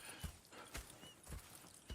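Horse hooves in Red Dead Redemption 2 clip-clopping on the ground, a few soft, uneven thuds spread across two seconds, quiet and close, with no voices.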